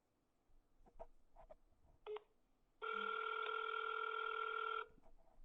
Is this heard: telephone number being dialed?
yes